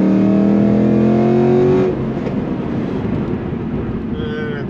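A Chevy SS with manual transmission and upgraded heads and cam accelerates hard from about 25 mph, its engine roaring loud and close with a rising tone, then easing into a rougher, lower rumble after a shift.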